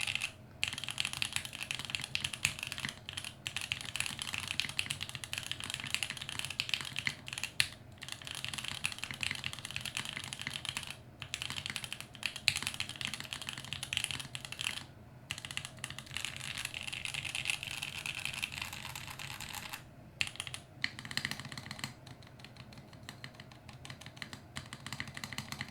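Someone typing on a rebuilt mechanical computer keyboard, with rapid, continuous clacking keystrokes and a few brief pauses, fairly quiet and close against a steady background hiss.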